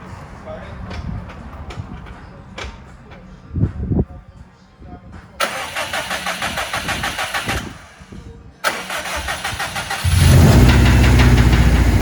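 A blown-engine modified Subaru Impreza STI hatchback is cranked over several times, its starter whirring in bursts before the engine catches into a loud, rough running roar near the end, with voices talking in between attempts.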